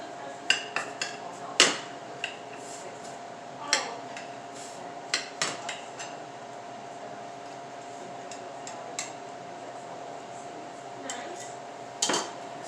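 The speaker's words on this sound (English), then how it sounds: "So now let's cut into this tortilla español" A knife cuts into a Spanish tortilla still in the pan, making scattered metallic clinks and taps against the pan over a low steady hum, with long quiet stretches between strikes.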